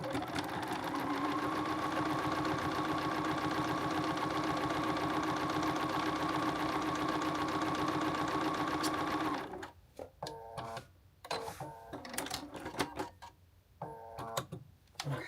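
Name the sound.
sewing machine sewing an oversized blazer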